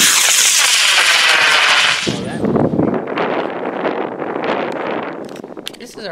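A 41-inch high power model rocket with a 29mm motor launches with a loud, close rushing roar for about two seconds, then fades into crackling and wind buffeting outdoors.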